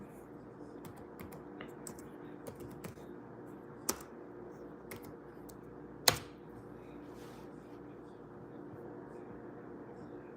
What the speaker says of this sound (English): So I'm typing it in right now.